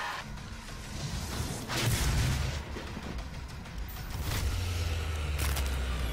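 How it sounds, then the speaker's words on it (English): Gauss cannon blasts from the video game Doom, several heavy booming shots with whooshing tails over a dense, loud game soundscape, with no talking. "we're going for more ammo just so I can use this fucking Goss Cannon more"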